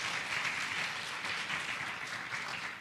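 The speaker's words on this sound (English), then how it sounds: "So big round of applause." At a public forum in Geelong, an audience gives a short, steady round of applause, moderately loud and even without a break.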